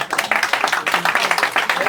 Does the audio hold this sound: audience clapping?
yes